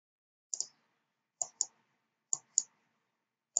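Computer mouse clicks in pairs, like double-clicks, repeated four times at steady intervals, crisp and close with silence between, during a web builder tutorial.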